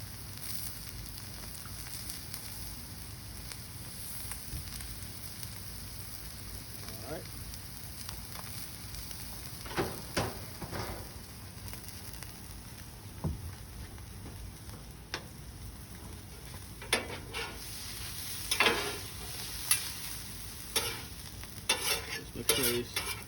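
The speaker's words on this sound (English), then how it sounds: "I'm gonna brush my potatoes with butter that I just liquefied" Potatoes sizzle steadily on a hot griddle while being brushed with melted butter, with scattered scrapes and taps of utensils, close up, and a voice talking now and then.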